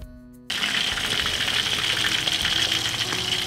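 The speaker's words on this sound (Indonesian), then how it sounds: "Ini pertama kalinya dalam hidup saya menggoreng tikus." A steady, loud sizzle of rat meat frying in hot oil begins abruptly and continues with crackling and bubbling.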